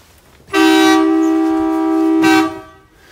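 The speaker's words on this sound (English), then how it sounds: "I'm gonna see what those air horns sound like here." Air horns on a Bluebird school bus with a Cummins diesel give one loud, steady blast of about two seconds in a quiet setting, with a brief swell near the end before it cuts off.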